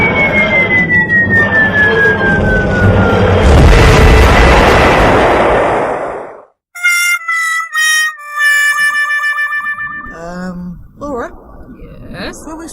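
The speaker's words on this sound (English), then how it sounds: "Time to release the unreality bomb." A rising, roaring explosion effect swells into a loud, sustained blast with a falling whine. It cuts to silence, then gives way to bright electronic warbling tones and pulsing sweeps, loud and close, with no talking over it.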